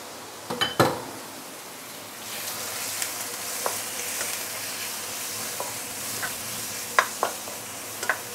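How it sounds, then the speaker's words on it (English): Meat sauteing with ginger and garlic in a pan for Chinese wat tan beehoon, a few loud clanks of a utensil at the start, then a steady sizzle with intermittent stirring scrapes and clinks, close and unvoiced. "So I'm going to saute the meat for a while before we continue"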